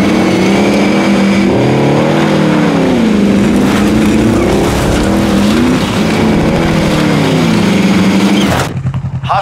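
A car engine in Call of Duty Warzone drones loudly and steadily while driving, its pitch rising and falling as it revs and shifts, before cutting off abruptly near the end.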